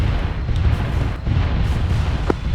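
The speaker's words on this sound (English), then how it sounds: "Rocket run complete." Rocket strikes from attack aircraft in Arma 3, a continuous rumbling barrage of booms and blasts with a sharper pop near the end, loud and sustained without talk.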